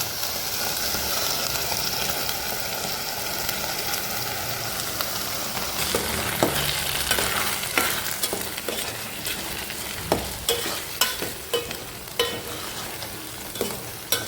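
Mushroom masala with a garam masala and coconut mixture frying in a pan, sizzling steadily while a spoon stirs, producing repeated scraping clicks that grow more distinct toward the end.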